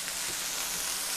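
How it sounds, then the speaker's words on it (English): Burger patties sizzling in a pan in a home kitchen, a steady close hiss and crackle of frying with no voices. "Now that the burgers are sizzling"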